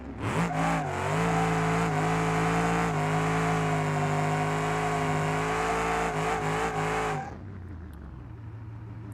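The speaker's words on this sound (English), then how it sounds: "Let's see how it does with a 150 shot and see if it picks up mile per hour" A muscle truck on a 150 nitrous shot in BeamNG.drive roars at sustained high revs for about seven seconds, a loud, steady, buzzing engine tone that drops away abruptly to a lower idle rumble.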